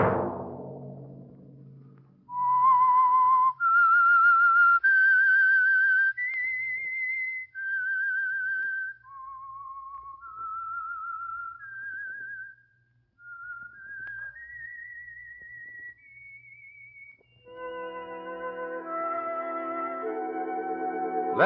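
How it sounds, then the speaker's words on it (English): A whistled theme melody for The Whistler, the Signal Oil radio program, rises and falls through a slow series of clear, sustained notes. It is loud and alone, then gives way to orchestral music. "Let that whistle be your signal for the Signal Oil program, The Whistler"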